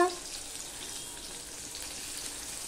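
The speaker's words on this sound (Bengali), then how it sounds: "গরম মশলা সব মিশিয়ে ফোড়নে দিয়ে দিলাম" Onion, dried red chilli, bay leaf and garam masala sizzle in hot oil as a tempering for mutton curry. A broad hiss of frying sounds close and steady after a brief clatter at the start.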